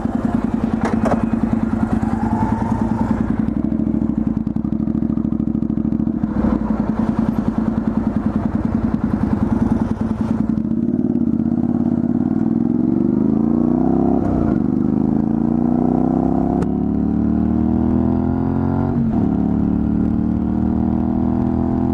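Honda CTX motorcycle engine revving while riding, a loud steady drone rising in pitch with throttle changes, close and continuous with wind noise.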